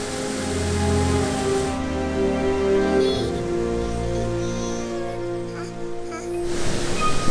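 Melincwrt Waterfall in a Welsh forest, a steady, close rushing roar of falling water with a low rumble, continuous throughout.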